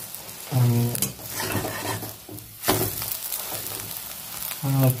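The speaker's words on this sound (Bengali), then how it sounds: "পুরোটি ভালো করে এই দিকটা ভেজে নেব" Masala omelette fries in a pan with a steady sizzle, broken by scraping and stirring strokes of a spatula against the metal, while short bursts of a voice come through now and then.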